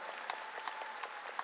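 Clapping from a church congregation during a sermon, quiet and somewhat distant, an even rhythmic patter with a few sharper claps rising above it.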